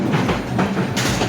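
The Vijay Express passenger train rolls along rails in Bangladesh, with a loud, close rumble and a rhythmic clickety-clack of wheels over rail joints through the short stretch.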